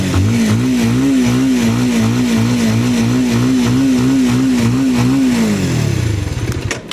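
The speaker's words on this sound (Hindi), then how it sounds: "स्टार्ट कर लेते हैं बाइक को, पहले तो साउंड सुन लेते हैं।" A Bajaj Avenger 220 Street cruiser motorcycle with a 220 cc engine idles loud and close in a steady, lumpy rhythm, revs once with a rising pitch, then settles back down and fades as it shuts off.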